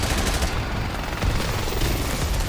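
Dense, sustained machine-gun fire from a video game battle in Modern Warfare Remastered, loud and continuous throughout with rapid overlapping bursts and no clear breaks.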